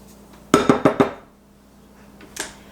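A spoon strikes a mixing bowl while dry ingredients for no-yeast butterscotch rolls are stirred together: four quick, bright clinks in a steady rhythm, a short pause, then one softer clink, close by.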